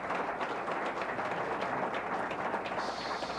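Audience applause at a 1988 public and leased access TV awards ceremony in New York City, a dense, steady wash of many hands clapping that holds at an even level without a break.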